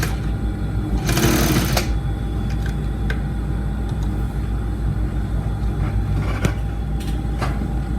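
A sewing machine stitches a curved shirt hem in a steady, continuous mechanical whir that holds throughout, with a brief louder burst near the start and a few small clicks along the way.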